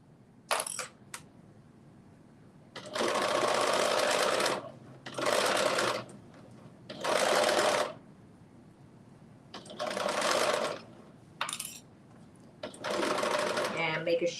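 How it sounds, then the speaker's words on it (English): A sewing machine stitches knit fabric with a straight stitch in loud bursts of whirring, about five runs of one to two seconds separated by pauses, with a couple of brief clicks at the start. "I'm sewing this with a straight stitch"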